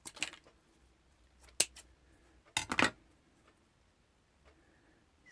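A few crisp snips of scissors cutting a paper Tattered Lace ornamental vintage heart die-cut for a card, one short snip followed by a double snip a second later, close and fairly quiet in a still room.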